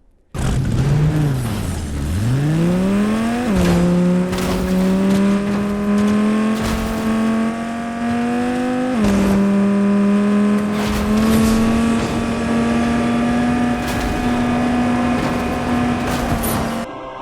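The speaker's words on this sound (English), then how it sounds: "The engine sound is directly based off the Dodge Viper's V10, which is awesome." A Fortnite car engine modeled on the Dodge Viper V10 drops to a low idle, then revs up and holds a loud, steady drone with a few brief gear-shift dips, continuous and close with no talking.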